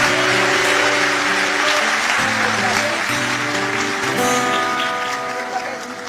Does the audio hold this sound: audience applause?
yes